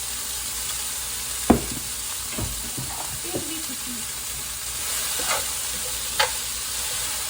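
Fajita vegetables sauté in olive oil with a soft, continuous sizzle, joined by a few sharp spatula scrapes and taps against the pan, fairly quiet and close.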